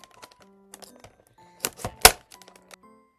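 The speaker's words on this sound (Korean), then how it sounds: "바로 뜯어볼게요" A Princess Teenieping toy's packaging being torn open: a few sharp rips and thumps in the middle, framed by scattered light clicks and rustles, no speech.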